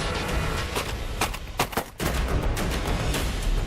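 A gun fires at a fast-moving flying target, several sharp, loud blasts cutting through a constant heavy roar of background noise.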